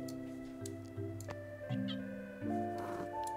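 A cartoonish cat meows several times in the Little To The Left puzzle video game, mixed with bright chimes and soft game music tones in a close, clean game soundtrack.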